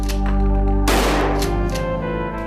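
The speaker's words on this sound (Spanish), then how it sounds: "Lyle y Eric les acribillaron con 13 disparos" A sound-effect burst of gunfire: a sharp loud crack followed by rapid rattling reports, over a sustained low musical drone that carries on beneath.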